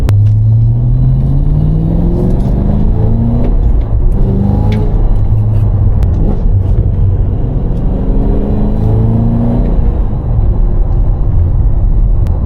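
An 800hp Cadillac CT5-V Blackwing cruises in track mode along bumpy back roads, its engine a steady, loud cabin rumble with gear-shift pitch sweeps and occasional thumps and rattles from the uneven surface.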